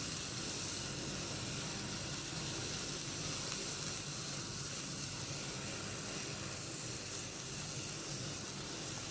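Masala-coated fish sizzles steadily in a hot grill pan, a loud, continuous frying hiss with crackles that holds unbroken throughout, with no talk over it.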